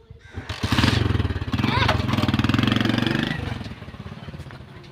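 A motorcycle engine runs loudly and roughly after stalling while stuck, rising and holding for a few seconds before dropping back, with a voice talking over it.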